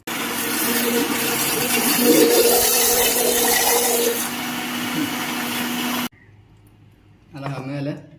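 Blender whirring through a homemade ice cream mixture, a loud steady motor roar that cuts off abruptly, followed by a brief spoken phrase.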